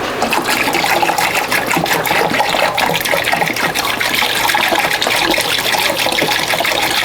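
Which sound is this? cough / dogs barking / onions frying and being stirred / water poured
water poured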